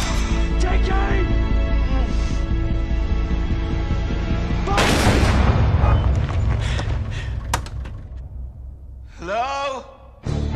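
A firing squad opens fire after a shouted command, a sudden heavy burst of gunshots booming and echoing at close range, preceded by dramatic music and voices and followed by a gasp.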